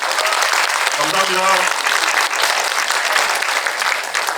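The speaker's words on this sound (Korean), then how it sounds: "감독님께 박수 한번." Audience applause at a special talk event for the Netflix series Aema, honoring the director, sustained steady clapping from a large crowd, with a brief spoken thank-you over it.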